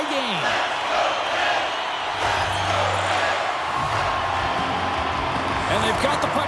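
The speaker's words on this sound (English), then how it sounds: "You can feel the energy in this crowd." A hockey arena crowd roars in the NHL 24 game between the Los Angeles Kings and Pittsburgh Penguins, a dense, steady wash of cheering and noise with faint whistles and thuds, loud throughout.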